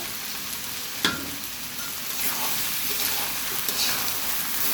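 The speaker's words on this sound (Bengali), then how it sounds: "চাল এখন ভাজা ভাজা হবে" Steady sizzling and crackling of rice frying in a hot pan for Bikrampur-style boa, continuous with a brief louder clatter near the start.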